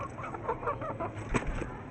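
Hens being pushed back through a coop door give short, soft clucks in a quick, uneven flurry at close range, with a muffled bump partway through.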